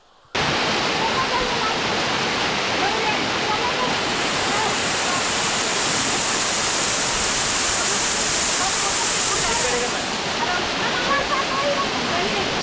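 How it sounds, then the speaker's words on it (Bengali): A waterfall at Ratmohana by the Subarnarekha river in Ghatshila roars with loud, dense, continuous rushing water that stays constant from start to finish. "একটা সুন্দর ঝর্ণাও আছে। আগে চলুন ঝর্ণাটা দেখে আসি।"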